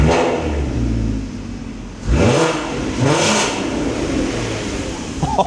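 VW Golf R32 engine, up close, blipped in two sharp revs that rise and fall over a loud, rumbling idle, with the exhaust growling between the bursts.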